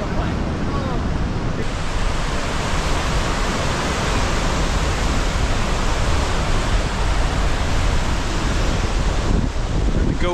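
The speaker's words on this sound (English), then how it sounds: "Gullfoss waterfall is mega up here." Gullfoss waterfall in Iceland roars as a steady, dense broadband rush of falling water, loud and continuous throughout with wind buffeting the microphone.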